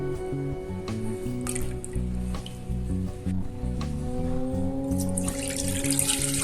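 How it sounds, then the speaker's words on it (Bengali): Semolina is stirred with water in a bowl, giving soft wet swishing and light clinks against the container, steady and close, with a faint tonal hum in the background. "আমি ফার্স্টে পানির মাধ্যমে এটা ভালো করে গুলিয়ে নিচ্ছি"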